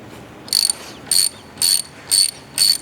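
A ratchet clicks in five evenly spaced bursts while threading a part in during a Subaru WRX/STI clutch delay valve delete, crisp and close with a quiet background.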